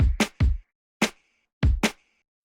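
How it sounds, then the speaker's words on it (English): A pop drum pattern: deep kick drum thumps paired with sharp finger snaps and a small snare, a few sparse hits with short gaps, dry and upfront. "we layered in here this small SMOL, small snare, which is kind of functioning like a snap in this context. That with the snaps and kick drum sounds like this."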